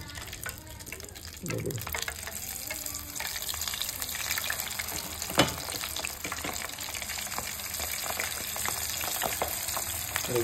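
Hot oil bubbles and crackles in a pan for oyster chilli, a dense steady sizzle lasting the whole stretch with a brief thump near the middle and faint voices underneath.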